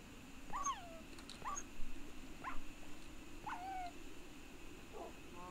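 Faint high whimpering yelps from a dying wolf in Minecraft, several short pitched cries spaced about a second apart over a low steady background.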